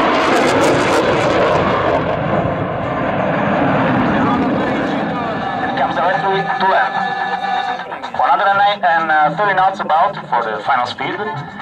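Steady engine roar from a Eurofighter Typhoon of the Italian Air Force climbing at an air show fills the clip, with a radio-style voice talking over it; the engine tone shifts and wavers toward the end.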